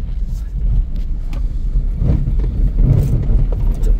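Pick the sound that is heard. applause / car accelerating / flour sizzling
car accelerating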